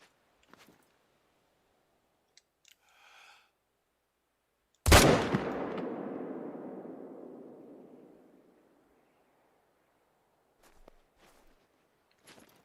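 A hunting rifle fires a single loud, sharp report in theHunter: Call of the Wild, its echo rolling away for several seconds across open terrain, with faint rustling footsteps before and after.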